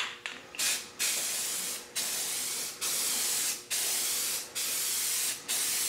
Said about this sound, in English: I'm using a flat black spray paint.